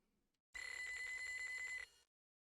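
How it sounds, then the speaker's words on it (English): A payphone rings in the video game Normal Fishing, one loud steady electronic bell burst lasting over a second, alone with no talk around it. "A payphone."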